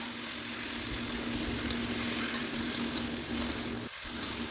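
Banana flower and potatoes sauté in oil in a pan, giving a steady, continuous sizzling hiss over a low hum, with occasional faint stirring sounds.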